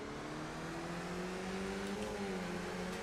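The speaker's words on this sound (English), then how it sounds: "Maybe I have the car sound a little too low here, do I?" A race car engine at Tsukuba in a racing video game holds a steady, faint whine with rising pitch as it accelerates, heard quietly and alone.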